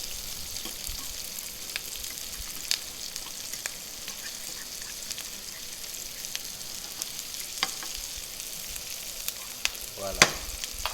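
Asparagus, onion and garlic fry in a pan over high heat, giving a steady, quiet sizzle with a few sharp clicks and a brief scrape of stirring near the end.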